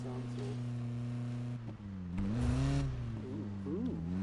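A car engine revs in Need for Speed 2015, a steady low drone that swells and climbs in pitch around the middle, then settles back. It plays quietly with no one speaking.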